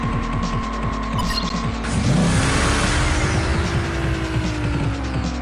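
Arcade racing game Oxide Racing 3D, with a car racing AI opponents through night streets: a steady, loud engine drone rises in pitch as it revs and accelerates, a rushing whoosh swelling midway.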